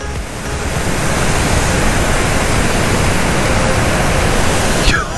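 Water rushes loudly and without a break over Kallanai Dam, a broad, steady roar close by with wind on the microphone and no voices.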